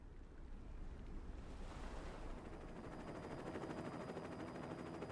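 Ocean surf breaking against a chalk headland coast, a steady loud roar of waves that swells after the first couple of seconds and keeps rushing throughout, with no voices.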